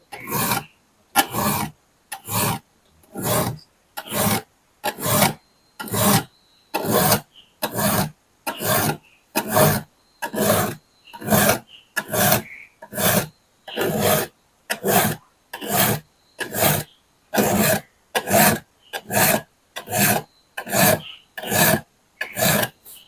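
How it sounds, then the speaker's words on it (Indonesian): Hand saw teeth being sharpened with a file: a long, even series of about two dozen rasping strokes, each a close, loud grating scrape followed by a brief pause, steady in rhythm with no talking. "Nah, kalau suaranya gini geret itu enak."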